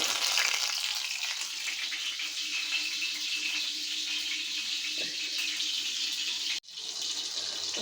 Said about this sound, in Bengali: আমি এক এক করে এখানে তেলে দিয়ে দিব